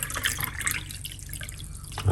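Water poured into a glass with a whole lemon inside, a steady liquid trickle and splash lasting about two seconds, close and alone.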